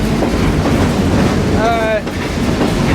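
Steady rumble of a train rolling along the rails near Klamath Falls at dusk, with a brief high metallic squeal partway through and a voice faintly underneath.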